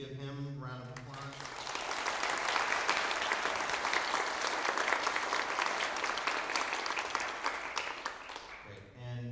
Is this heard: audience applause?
yes